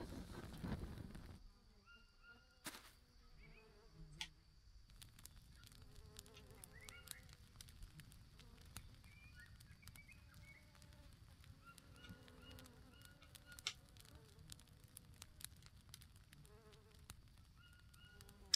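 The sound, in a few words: bees buzzing near a beehive in video game Green Hell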